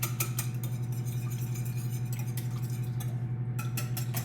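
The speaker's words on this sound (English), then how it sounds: "And then you whisk it all together." Carrot cake batter whisked in a bowl, a rapid regular clinking of the whisk against the bowl's sides, close and steady over a constant low electrical hum.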